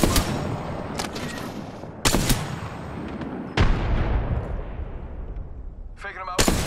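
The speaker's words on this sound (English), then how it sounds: "Heads up, dropping the grenade." Frag grenade blasts and heavy gunfire in Apex Legends, several sharp loud booms each trailing into a long rumbling decay, with faint voice chatter near the end.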